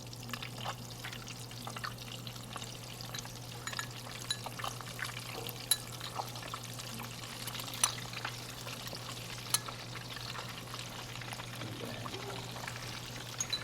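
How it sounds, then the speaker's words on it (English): Crab coated in fish sauce and egg deep-fries in hot oil, giving a steady soft bubbling sizzle with a low continuous hum and occasional faint clinks, heard alone without talk. "gonna start putting my crab that coating with fish sauce and eggs into the deep fry"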